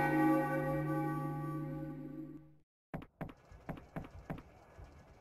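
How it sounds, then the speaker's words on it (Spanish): A sustained bell tone in Final Fantasy IX rings out and fades for a few seconds. It is followed by a series of sharp percussive strikes and clanks, all game sound with no talk. "Cuando esta campana suene 3 veces"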